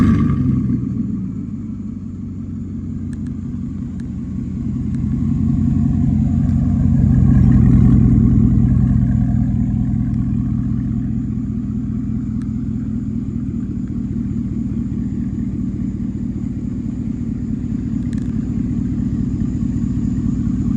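Straight-piped 2016 Chevrolet Silverado 5.3 V8 with no catalytic converters, muffler or resonator, starting up: a loud, deep rumbling idle swells after ignition and then settles into a steady throb, recorded close up with nobody talking.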